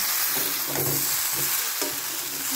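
A cream mixture stirred in a hot pan gives a dense bubbling sizzle with rhythmic scraping strokes about every half second, close and loud.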